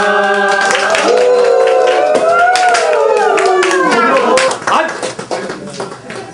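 Crowd clapping at a farmers' victory celebration, steady and loud throughout, mixed with singing and voices, then thinning out toward the end.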